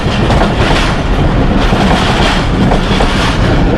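A train rolls past close by over a railway crossing with loud, continuous rumbling and rattling and heavy wind buffeting on the microphone, no one talking.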